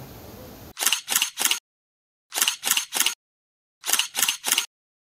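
Mobile phone camera shutters fire at the top point near Kumbhe Waterfalls in three quick bursts of three clicks each, separated by silent pauses, close and crisp.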